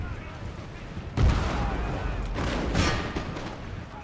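Musket volleys and artillery boom in an Empire: Total War battle, a sharp burst followed by a rolling rumble and a second loud crack, with someone talking over the din.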